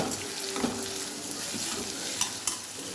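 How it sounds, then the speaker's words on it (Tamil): Tomatoes and onions sautéing in a pan with a steady, close sizzle, while a spoon stirs and scrapes through them and a couple of sharper clinks pop out near the end; nobody speaks. "தக்காளி கொஞ்சம் வதங்கட்டும்."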